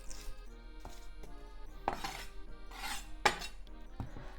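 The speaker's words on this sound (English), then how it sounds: "Onion. Cut the top off." A knife slicing the top off an onion for onion and green bean kakiage tempura, heard as a few sharp close clicks and taps of the blade against a board, with faint rustling between them and no talk.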